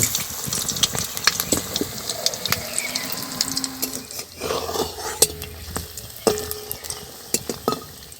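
Lightly fried pieces dropped into warm sugar syrup, with close bubbling and sizzling in the pan, broken by sharp clinks and scrapes of a utensil at irregular intervals.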